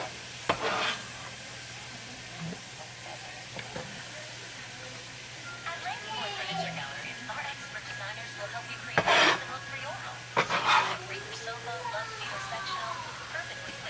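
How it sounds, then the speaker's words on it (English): Vegetables sautéing in a pan, a soft steady sizzle broken by a few scrapes and clinks of a utensil, with a person talking over it. "So I will just saute these until they're softened."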